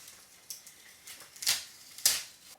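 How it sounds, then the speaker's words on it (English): Transfer tape peeled slowly off a layered vinyl decal on a textured book cover, faint close crackling and ticking with two sharper ripping bursts near the end, alone in a quiet room. "And then you're going to grab that transfer tape for the last time and peel it back slowly."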